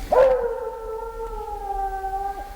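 A Treeing Walker hound bays at a treed animal near a cornfield on a frosty fall morning, one long drawn-out howl that rises sharply and then holds a steady, wavering tone for over two seconds, loud and close.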